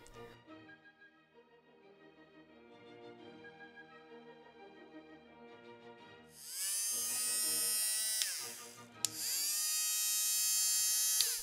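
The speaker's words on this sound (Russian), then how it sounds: "Проверяем, работает ли у нас мотор." A small electric motor in a homemade USB fan whirs into a loud, bright high-pitched buzz after a quiet stretch of faint tones, runs steadily, cuts out briefly, then spins up again close by.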